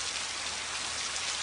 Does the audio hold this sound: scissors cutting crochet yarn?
no